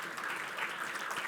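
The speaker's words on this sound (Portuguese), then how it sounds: "peço uma salva de palmas para ele, por gentileza." Brief burst of steady applause from an audience at a conference panel, continuous clapping throughout with no pause.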